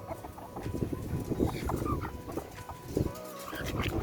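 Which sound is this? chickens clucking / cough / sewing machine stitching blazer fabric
chickens clucking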